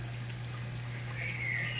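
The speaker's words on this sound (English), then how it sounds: "come up when the water fills up and then exits through the bell siphon" Water running through an aquaponics bell siphon, a steady trickling flow over a constant low pump hum, with a brief gurgle near the end.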